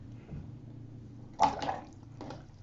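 A paintbrush swished in a jar of clean water during a watercolour painting session: a brief splashy rinse in the middle, then a softer second swirl, close and quiet over a low room hum.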